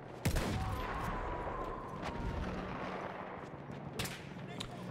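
Shots from a Russian 1895 rifle in the video game Battlefield 1, a few sharp cracks spaced seconds apart over a steady rumble of distant battlefield gunfire and noise.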